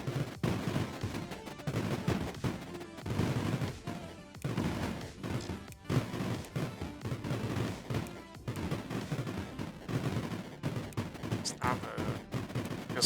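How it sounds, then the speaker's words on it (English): Missile fire in the Creeper World IXE demo: continuous crackling and thumping bursts of launches and impacts, steady and busy throughout, at moderate loudness. "Missiles do the work."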